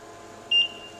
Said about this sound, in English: You'll hear the beep, and that means that the autoclave is now starting.